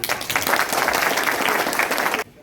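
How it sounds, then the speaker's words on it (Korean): Applause from an audience at a Korean-language speaking contest fills the space with dense, steady clapping for about two seconds before it cuts off abruptly, leaving a quiet room. "그럼 다시 박수"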